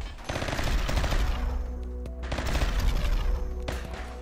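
Rapid bursts of gunfire aimed at turrets inside a room in the Rimworld video game, two loud, dense volleys separated by a short pause, with no talking.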